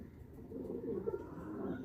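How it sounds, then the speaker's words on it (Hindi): Soft, low cooing of newly arrived pet pigeons with anklets, a gentle murmuring warble close by with faint background hum. "यहाँ पे ये नए जो है ना कबूतर आए हैं"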